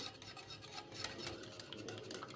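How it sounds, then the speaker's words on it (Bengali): A spoon stirs egg and biscuit batter for a caramel pudding in a bowl, making faint continuous scraping and rubbing with soft rhythmic swishes, heard alone. "এখন ভালো করে জিনিসটাকে মিশিয়ে নেব"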